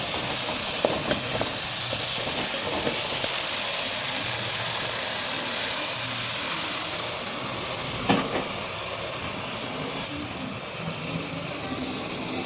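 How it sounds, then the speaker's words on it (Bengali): Tomatoes sizzling steadily in oil in a pan while cooking spiced potato curry, a continuous bright frying hiss with faint stirring clicks and a brief scrape near the end, no talking. "আমার টমেটো ভাজা হয়ে গেছে, এবার আমি মশলাটা দিয়ে দেবো।"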